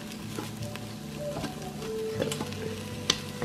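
Onions sauté in a hot pan, a soft steady sizzle broken by clinks and scrapes of a utensil stirring and breaking them apart, fairly quiet and close with no talking.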